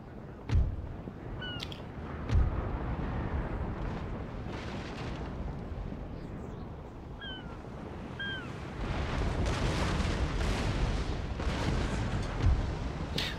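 Ship cannons firing in a Napoleonic naval battle, deep booming blasts that strike at scattered moments over a continuous roar of sea and battle noise, loud and heavy, with no talking.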